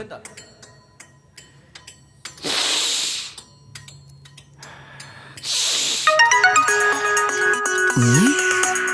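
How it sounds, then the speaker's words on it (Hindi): A phone ringtone plays as a bright, repeating electronic melody near the end, after louder bursts of noise and some background talk. "ये सुब्बाराव बार बार फोन कर रहे हैं।"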